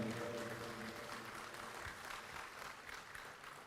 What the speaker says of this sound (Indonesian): berikan tepuk tangan kepada Bapak Susilo Bambang Yudhoyono